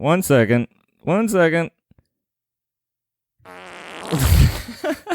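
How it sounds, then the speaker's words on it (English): A loud, sputtering fart runs for nearly two seconds with a raspy swell near the end, following two short bursts of nearby voice and a quiet pause. "It's a good fart."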